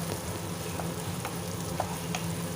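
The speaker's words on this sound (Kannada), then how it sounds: "ಈರುಳ್ಳಿನ ಚೆನ್ನಾಗಿ ಫ್ರೈ ಮಾಡ್ಕೊಳ್ತಾ ಇದ್ದೀನಿ." Onions frying in a pan for a cauliflower gravy give a steady, close sizzle with a few soft stirring clicks and no talking.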